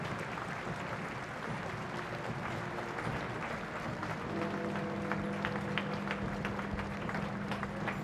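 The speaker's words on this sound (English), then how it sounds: "the applause from the pavements swelled" Crowds lining the pavements applaud as Queen Elizabeth II's funeral cortege nears Parliament Square and the Palace of Westminster in London in September 2022: dense, sustained clapping from a distance, with a faint tonal hum rising partway through.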